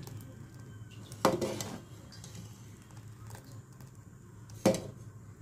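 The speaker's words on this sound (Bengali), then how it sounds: "আর এটা আমি এখন মাঝে মাঝে নাড়তে হবে, নাহলে কিন্তু নিচে লাইগা যাবে সাবুদানা" A spoon stirring sago payesh in a cooking pot gives two distinct clinks against the metal, a few seconds apart, over a low kitchen hum with no talking.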